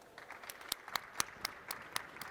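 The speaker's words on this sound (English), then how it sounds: "I would like to ask you a round of applause for our speakers" An audience at a science talk event claps for the speakers, producing a faint, scattered burst of applause with distinct separate claps heard from a distance.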